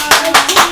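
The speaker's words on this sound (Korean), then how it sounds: "지금 이 순간 응원의 박수를 힘차게 보내주시기 바랍니다." An audience at a live book-talk event claps, a few sharp, loud bursts in quick succession within a brief moment.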